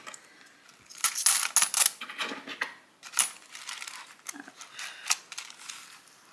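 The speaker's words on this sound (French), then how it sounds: "j'ai même pas mis encore mes pièces et j'arrive pas à fermer l'enveloppe" Coins clink and jingle in a series of bright metallic bursts while being slipped into a paper budget envelope, close and fairly clear, with rustling between the clinks.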